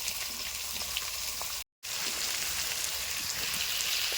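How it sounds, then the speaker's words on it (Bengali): Potatoes fry in a pan with salt and turmeric, giving a dense, steady sizzle that stays close and even throughout, broken only by one very brief silent gap. "আলুটা একটু ফ্রাই করে নিচ্ছি নুন হলুদ দিয়ে"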